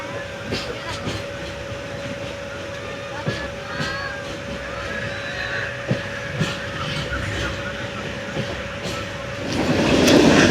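A goods train running on the rails near the Empress Bridge on a hot day, a steady rumble with a sustained hum and periodic clacks over the track, growing louder near the end.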